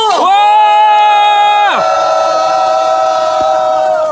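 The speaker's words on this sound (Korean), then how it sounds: "여러분, 더불어민주당과 진보당의 단일 후보 기호 7번 최은석 후보에게 박수 한번 보내주십시오" Loud crowd at a Cheongju city council election rally for a joint Democratic Party and Progressive Party candidate, with sustained whooping and cheering voices carrying a steady tonal chant-like roar over the whole stretch.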